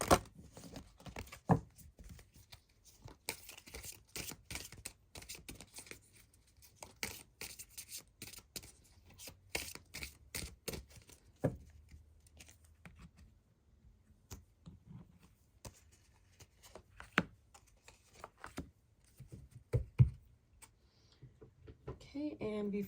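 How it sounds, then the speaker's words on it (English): An oracle card deck being shuffled, giving soft irregular rustles, rubs and sharp little card snaps in uneven bursts, fairly quiet and close, with no talking over it. "I'm going to shuffle the oracle deck and get you a couple more"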